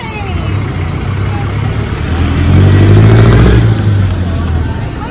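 Jeepneys and other engines pass along a busy city street near the Pasig River Esplanade in Intramuros, a steady rumble of traffic that swells as a vehicle goes by close in the middle, with no speech.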